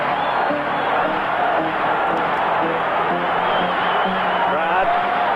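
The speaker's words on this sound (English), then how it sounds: "Crowd coming to life now as the Braves lead it 3-1." A big baseball crowd at the 1982 NLCS Game 2 between the Braves and Cardinals cheers in a dense, sustained roar from all around the stadium, steady throughout with no clear voice rising above it.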